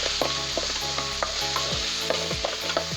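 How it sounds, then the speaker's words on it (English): Meat with tomatoes and onions stirred in a pan for a traditional Kenyan village dish, giving a steady close sizzle and frying crackle broken by scraping stirs and soft clinks, with no talk. "I'll take my meat here. Then add in the tomatoes and onions. Mix it very well."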